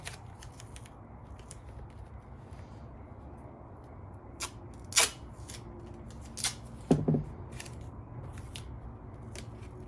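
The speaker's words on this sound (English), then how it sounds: "And then I tape that back down over on top of it." Tape is pulled and pressed down over paper covering a toy spinning-top launcher, a scattering of sharp crackles and tearing snaps spaced irregularly over quiet, close handling noise.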